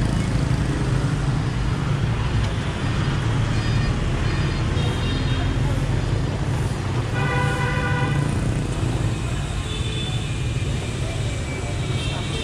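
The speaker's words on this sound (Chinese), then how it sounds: "到处都是摩托车" Motorcycle traffic fills a street in Vietnam with a continuous dense roar of engines, a short horn toot sounding partway through above the steady rumble of passing bikes.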